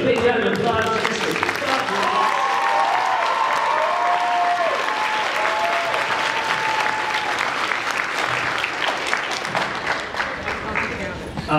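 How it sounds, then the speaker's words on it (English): A crowd at a Zapp's Spaceship of Love event gives sustained, loud applause for a contestant, with shouts and cheers mixed into the steady clapping. "let's give a big round of applause for Mr."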